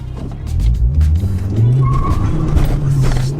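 A Stage 2 tuned Ford Focus ST launching hard from a standstill, its engine note rising loud and close as it revs up through the gear, with a faint higher whine over the roar.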